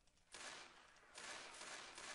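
Muffled gunfire in the zombie shooter Left 4 Dead 2 after the player takes adrenaline, heard as a continuous dull roar of shots in two sustained bursts, soft and dampened, with no talking.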